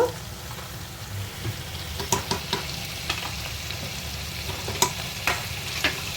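Paneer mixture with butter and a little brown sugar is stirred in a pan over a continuous sizzle, with intermittent spoon scrapes and taps against the pan surface.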